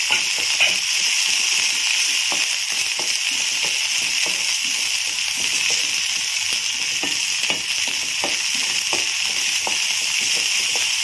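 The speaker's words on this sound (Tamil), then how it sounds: "சோம்பு பொரியும் போதே வெங்காயம் ஆட் பண்ணிக்கிறேன்" Onions and their green stalks hit sizzling fennel seeds in a hot pan, giving a continuous bright frying hiss with faint crackles and occasional stirring clicks, steady and close.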